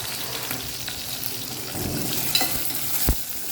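Urad dal and coconut sizzle steadily in a hot pan for chutney, a continuous close crackling hiss with a soft stir and a sharper clink of the spoon near the end.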